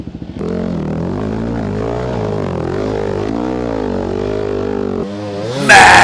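A Yamaha WR450 dirt bike rides a muddy trail, its engine a steady loud drone with rising and falling revs held close throughout, then a sharp rev burst near the end.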